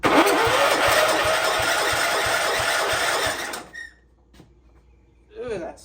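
Starter cranking the engine of a 1960s Cub Cadet tractor, a loud rapid grinding churn lasting about three and a half seconds before cutting off, followed by faint squeaks and a short voice.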